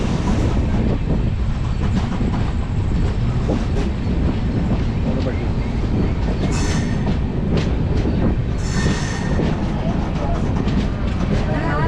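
Lokmanyatilak Karaikal Weekly Express rumbling steadily along the rails near its last halt at Nagapattinam, with a continuous loud roar, wheel clatter and brief high squeals of wheels midway through.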